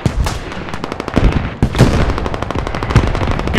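Rockets and artillery pound continuously in Squad, Middle East Escalation mod, near a superFOB: a dense, loud barrage of rapid booming impacts and launches, relentless throughout with no pauses, no talk.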